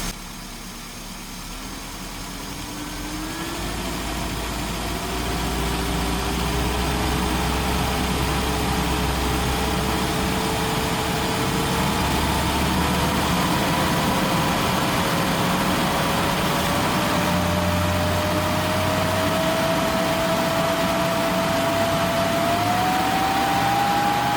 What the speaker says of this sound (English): let's go ahead and rev it and see what the feeling looks like.